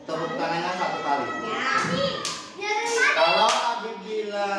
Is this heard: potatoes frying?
no